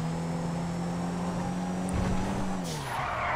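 A Super Diamond, a Rolls Royce Phantom, drifts in GTA V, its steady engine drone joined by a screeching tire squeal that swells and then fades near the end of the slide.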